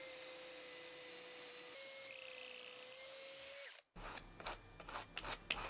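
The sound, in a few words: power drill drilling holes in wood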